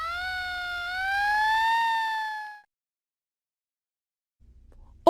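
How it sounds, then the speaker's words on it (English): A single siren sounds, a rising and falling tone with harmonics that swells and then cuts off into silence, followed by a brief low rumble at the end. "Or a siren."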